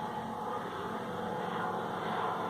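An airplane passes overhead as a steady, broad roar that holds at an even level throughout, with no talking.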